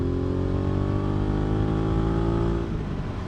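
A 2019 Suzuki V-Strom 650 motorcycle pulls away in fourth gear from low revs, its engine note rising steadily and close by, then easing off near the end.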